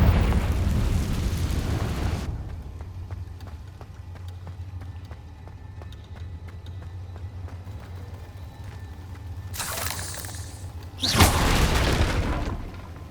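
Confringo spell blasts explode in Hogwarts Legacy: a loud booming burst at the start, a quieter low hum in between, then two more sharp explosive bursts near the end.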